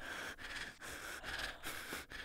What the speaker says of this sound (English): I can hear you breathing.